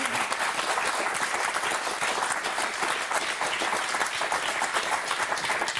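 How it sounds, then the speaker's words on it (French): The studio audience of the French game show Motus breaks into sustained applause, a thick, even patter of many hands clapping that continues without letup for several seconds. "Et un tonnerre d'applaudissements pour Morgane et Baptiste."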